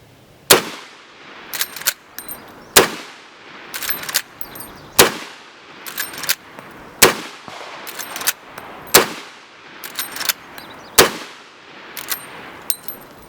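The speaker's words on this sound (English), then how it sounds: "But in 4570, we're shooting some cowboy loads from Fiocchi" A Smith & Wesson lever-action rifle fires Fiocchi 45-70 cowboy loads: about six loud, sharp shots at even intervals, each followed by metallic clacks of the lever cycling, with no talking.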